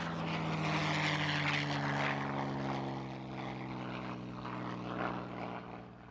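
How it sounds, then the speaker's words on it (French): A P-51 Mustang with its Merlin engine takes off, giving a loud, continuous propeller roar with a deep, throbbing drone that swells and then eases slightly, with no voices. "Je ne connais rien de meilleur que de rouler sur la piste avec un Mustang, de se mettre en ligne, de mettre les gaz et de s'envoler."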